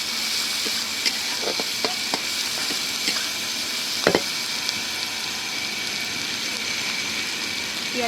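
Chopped onions frying in oil with whole cumin seeds, a constant close hiss of sizzling with occasional light utensil ticks and one sharper clatter, no voices.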